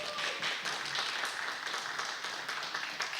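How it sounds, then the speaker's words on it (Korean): A church congregation at a Sunday service claps together, quiet and somewhat distant, a dense patter of many hands that keeps going for a few seconds. "박수 드리겠습니다."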